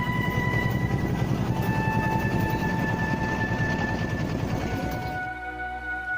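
A modified motorized lorry on a Dutch colonial-era rail line in Lebong Tandai, Indonesia, rumbles steadily along the tracks with rhythmic clatter and tonal whine, the noise dropping off abruptly near the end.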